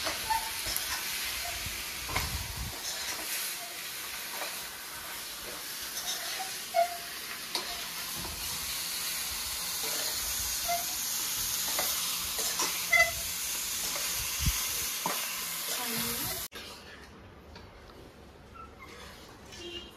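Chicken sautéed and steamed in a pan at a farmhouse, a continuous close sizzle and hiss with scattered scrapes and knocks of stirring, which drops away abruptly near the end.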